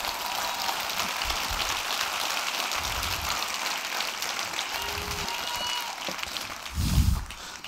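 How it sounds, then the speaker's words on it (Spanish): A church congregation applauds during a Holy Communion service, making a sustained, dense wash of clapping that carries on evenly before a few heavier low thumps near the end. "Dale fuerte el aplauso al Rey."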